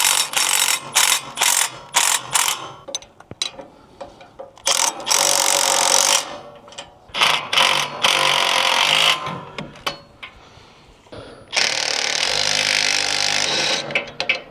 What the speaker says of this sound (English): I'm going to put my impact here, 3/4 inch wrench on the other side.